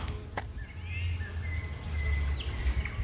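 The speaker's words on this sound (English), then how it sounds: "Only singing birds around here, the same like in the tropical jungles." Birds sing near a pond, with several thin whistled calls and chirps over a low rumbling background, fairly close and moderately loud, with no talking.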